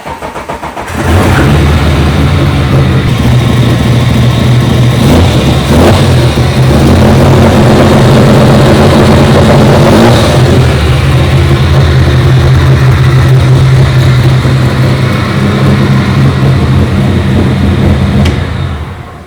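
Speedway race car engine fitted with new spark plugs cranks and fires, then runs loud and steady with a deep, uneven idle and occasional revs through the whole stretch, alone without talk.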